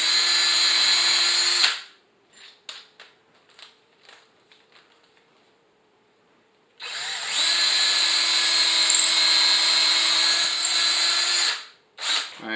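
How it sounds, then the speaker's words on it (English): A power drill with a 3/16 drill bit bores a hole while cabinet doors are installed in a kitchen: a loud, steady whine for about two seconds, then quiet handling clicks, then a longer sustained drilling run that cuts off at the end. "I'll finish it up with the right size drill bit"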